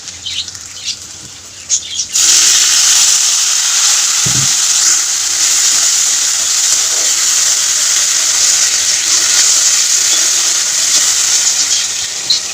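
Spices fry in a pan for a fish curry, heard as a loud, steady sizzling hiss that starts abruptly after a quieter moment and continues close up without speech.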